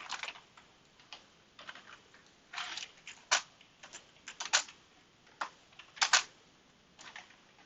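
Bursts of computer keyboard typing, quick clusters of crisp key clicks separated by short pauses, close and fairly quiet with no talking.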